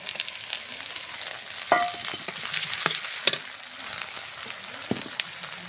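Spice paste of crushed garlic, ground ginger, cumin paste and green chillies frying in a pan, a steady close sizzle with occasional stirring clinks and scrapes throughout.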